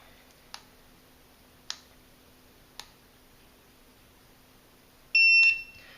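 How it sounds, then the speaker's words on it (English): A Sensyx PCD100 carbon monoxide meter switches on in a quiet room with three faint clicks, then gives one short, sharp electronic beep near the end. "I pushed the button for several seconds. It beeped and turned on."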